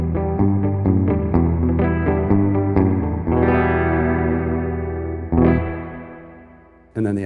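Electric guitar notes and chords ring out through a spring reverb effect with a springy, splashy tail, a run of picked notes followed by long decaying strums.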